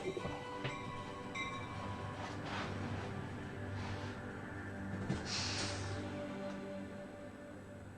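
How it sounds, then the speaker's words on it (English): Train interior ambience from the video game Gabriel Knight 3 rumbles steadily, a low mechanical drone with faint rhythmic clacks and soft hissing swells, no voices present. "We're on a train."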